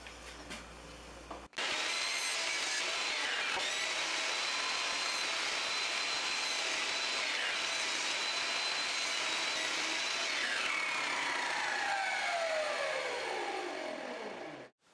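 A power tool routs a channel into a 2.5-inch wide wooden base, a loud sustained high whine with the pitch sagging under load and recovering, starting abruptly after a quiet moment and cutting off at the end.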